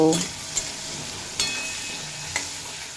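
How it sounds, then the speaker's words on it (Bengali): Potatoes frying in oil with salt and turmeric, a continuous close sizzle punctuated by a few sharp spatula scrapes at intervals of about a second. "এই আলুগুলো স্বাদ মতো লবণ আর পরিমাণ মতো হলুদের গুঁড়ো দিয়ে খুব ভালোভাবে ভেজে নেব"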